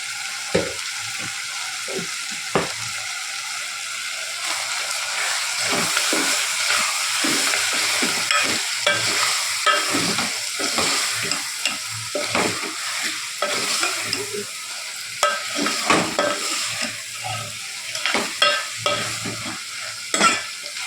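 Mutton keema sizzles in oil in a pan while it is mixed, with a busy, close crackle and repeated scraping strokes of a spoon that get choppier toward the end.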